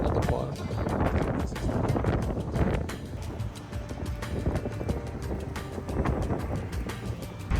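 Strong gusts of wind buffet the microphone on a walk through Eisenhower Park, rough low rumbling bursts that rise and fall continuously, with a voice briefly speaking under the noise.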